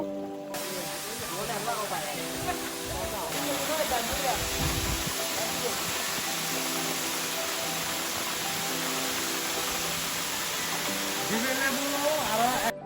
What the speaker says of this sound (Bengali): কলকল শব্দে পানি বয়ে যাচ্ছে আর একদিকে হচ্ছে ঝর্নার শব্দ